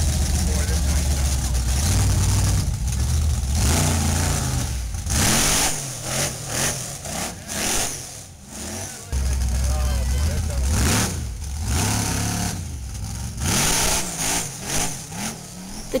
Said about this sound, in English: allow the monster truck demonstration to begin